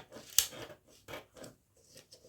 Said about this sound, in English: See, I'm cutting through the new armhole.